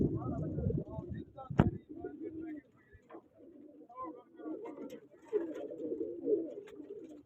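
Pigeons coo and flutter close by at a pigeon-catching competition, with a short sharp knock near the start, over a steady bed of bird sounds and nearby voices talking.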